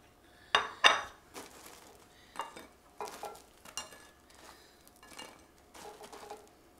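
Homemade eggplant fries, salted like French fries, are set down on a collector's plate with a few sharp clinks at the start, followed by softer scraping and tapping of food against the dish, close and fairly quiet.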